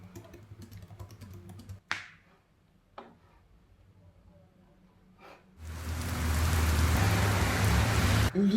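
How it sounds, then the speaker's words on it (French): Heavy downpour heard from inside a poorly insulated office building, starting after a stretch of quiet with a few knocks and clicks, then a dense, loud, continuous roar of rain until the end. "Je sais pas si vous entendez la pluie tomber."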